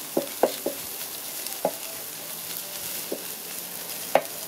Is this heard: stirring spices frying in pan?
yes